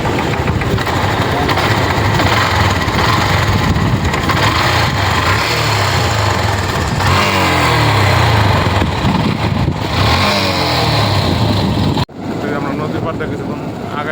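A motorcycle engine drones loud and close for a long stretch in rainy weather, its pitch rising and falling midway before a brief cutout and a restart near the end.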